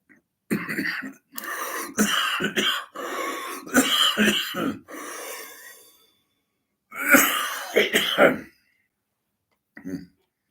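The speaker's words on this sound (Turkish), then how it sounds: "Ama öksürük bırakmıyor yakamızı." Repeated raspy coughing fits, close and loud, coming in long clustered bursts with short pauses and a wheezy, strained quality.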